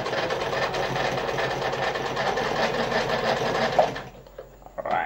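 A Veritas automatic 8014/3 sewing machine running a straight stitch at stitch length 4, a steady close mechanical whir with rapid needle clatter lasting about four seconds, then stopping with a few small clicks.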